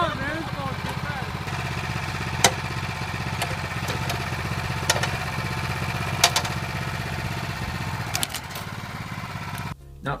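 A garden tiller's small engine runs steadily and a bit too fast, a close, buzzing mid-pitched drone with a few sharp clanks over it, cutting off near the end.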